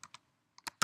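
Four short keystroke bursts on a computer keyboard while coding, two quick taps, a pause, then a faint tap and two louder, close clicks, with no talking.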